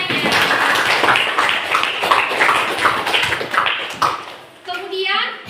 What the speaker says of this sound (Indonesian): tepuk tangan untuk Inanya.